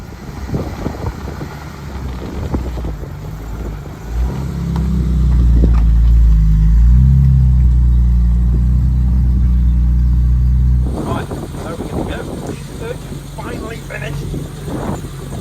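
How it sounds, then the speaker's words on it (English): BMW E30 Cabriolet engine, freshly restored after 17 years off the road, cranks and fires into a loud, steady idle that holds for several seconds before dropping away, with talk before and after. "The first time I've heard this car start for 17 years."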